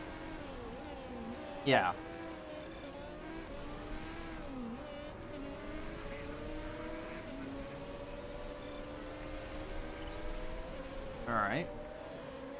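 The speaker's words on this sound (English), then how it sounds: "hitting the limiter on the straights" A race car engine in the Motorsport Manager video game holds a steady high whine, rising and bouncing against the rev limiter along the straights. Brief louder bursts come near the start and end, and a voice speaks briefly over it.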